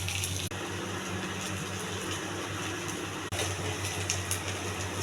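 Tamarind water poured into a pot of spiced taro root pulusu with turmeric, chili powder and ginger-garlic paste: a steady, continuous liquid rush over a low background hum, with two brief breaks.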